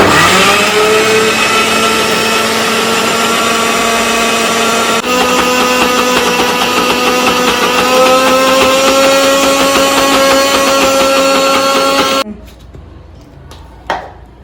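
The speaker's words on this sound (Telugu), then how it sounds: "మనం మిక్సీకి పట్టేసుకుందాము" A kitchen mixer grinder grinds thick urad dal batter for crispy vadas, a loud, steady high-pitched motor whine holding for about twelve seconds before cutting off, followed by a brief clatter.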